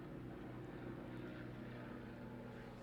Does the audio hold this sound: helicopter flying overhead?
yes